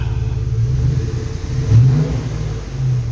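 A Hemi V8 in a Plymouth Cuda, recently restarted after sitting for a couple of years, idles with a loud, steady low rumble and swells into a short rev midway, then settles back.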